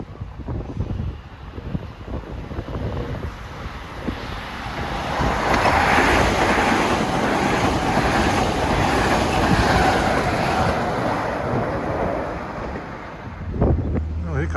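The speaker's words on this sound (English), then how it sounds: "Here comes a New Haven Grand Central Express at 453." A New Haven line express train bound for Grand Central approaches through Mamaroneck during evening rush hour, a broad rumbling roar that swells from a distant wash to a loud, sustained pass lasting several seconds, with wind buffeting the microphone.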